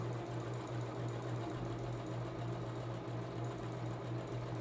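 A sewing machine runs steadily in reverse, backstitching across a tricoline cotton fabric mat, with a continuous, even mechanical hum and rapid needle rhythm held at a constant loudness throughout.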